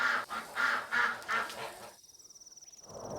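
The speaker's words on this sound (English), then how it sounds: "Heard a duck." A duck calls in a forest, giving four loud rhythmic honking quacks in quick succession, followed by a faint, fast ticking trill.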